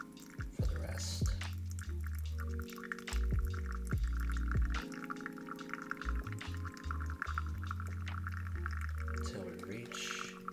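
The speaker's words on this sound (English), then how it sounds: "Outside, back to the inside, and then we do a center pour" Water is poured from a kettle over coffee grounds in a pour-over brewer, with a steady, continuous trickle and splash running throughout. Low hum and background voices sit underneath, and a few faint clinks surface along the way.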